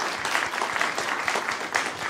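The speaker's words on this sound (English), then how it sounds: "If we can also give a round of applause to the Fayetteville Public Library and Joel Bunch," A recital audience at a university horn concert claps in steady, even applause, dense and moderately loud throughout a couple of seconds, with no voices rising above it.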